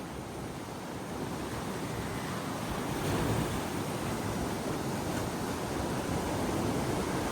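Ocean surf rolls onto Kovalam beach in Kerala, a continuous broad wash of breaking waves with a slight swell partway through, mixed with wind buffeting the microphone and no voices.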